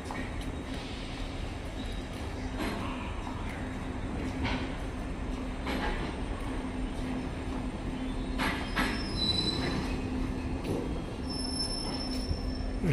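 A train rolls slowly through a railway station at Basirhat, with a steady low rumble, faint wheel squeal and scattered clanks that stay moderately loud and even from start to finish.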